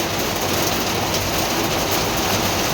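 Rain falls in cool weather, a dense, even hiss that stays loud and constant from start to finish with no voices.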